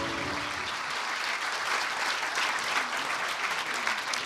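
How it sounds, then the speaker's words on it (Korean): An audience at a presidential address to public officials breaks into sustained, dense applause, even and fairly close throughout the few seconds. "귀중한 말씀해 주신 대통령님께 다시 한번 뜨거운 박수"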